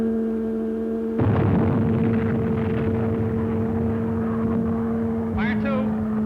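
A World War II submarine firing a torpedo in the Pacific: a sudden loud rushing whoosh breaks over a steady humming drone and carries on for several seconds, and a short voice-like chirp sounds near the end.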